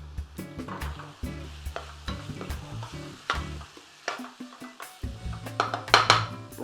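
Cubes of paneer cheese sizzle and spit in a hot pan while making saag paneer, with repeated scraping and stirring clatter over a steady frying hiss, louder toward the end.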